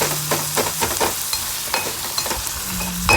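Onions and garlic fry and sizzle in a pan while being stirred, giving a steady close crackle broken by scraping stir strokes, with no voices.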